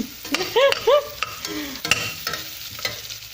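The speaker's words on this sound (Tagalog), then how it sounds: "Gigisa lang natin to ng konti." Onion is sautéed in a pan, with soft sizzling and several stirring scrapes and clinks close by, while faint voices and whistly tonal sounds come and go briefly in the background.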